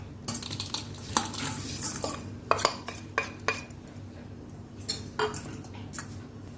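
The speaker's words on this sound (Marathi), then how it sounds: "आता आपण हे सर्व गूळ ह्यामध्ये मिक्स करून घेतलं आहे" Jaggery being stirred into raw mango pulp in a pot for panha, a spoon scraping and clinking against the pot in an irregular series of sharp clinks over a soft, continuous mixing sound, close by and without talk.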